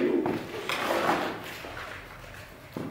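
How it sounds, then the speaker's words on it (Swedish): An old cell door in an abandoned psychiatric hospital in Säter is pushed open with a close, scraping wooden grind in short bursts, followed by quieter rustling and a final knock near the end. "En gammal celldörr. Slå den upp."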